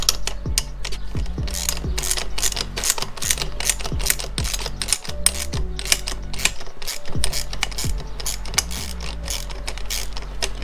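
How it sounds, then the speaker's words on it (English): A 13 mm ratchet wrench tightens bolts on a cold air intake of a Can-Am Ryker, giving rapid, even pawl clicks in repeated close bursts between short pauses. "we got a 13 wrench and we got our 13 ratchet. And let's tighten this back up now."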